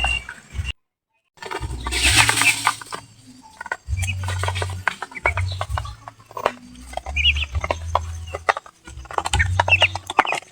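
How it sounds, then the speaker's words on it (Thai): Ducks quack repeatedly in a lively, overlapping chorus nearby, with splashing water and rustling mixed in. "ถ้าจะมาฟังเสียงเป็ดนำกันเด้อ"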